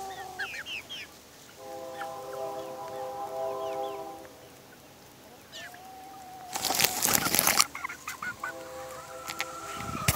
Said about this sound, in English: Oh, hey. Chicken.